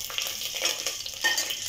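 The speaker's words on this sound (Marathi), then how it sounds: "थोडं परतूया।" Bay leaves, a cinnamon piece and curry leaves fry in hot oil in a pressure cooker, giving a soft continuous sizzle with a few light stirring scrapes, close and alone without speech.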